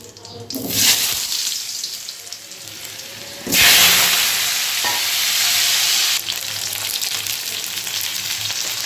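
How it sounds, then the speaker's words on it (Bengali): Potatoes dropped into hot oil in a kadai seasoned with bay leaf and whole cumin, bursting into a loud, steady hiss of frying that flares up sharply midway and then settles into a continuous close sizzle. "এবার আলুগুলো দিয়ে ভেজে নেব।"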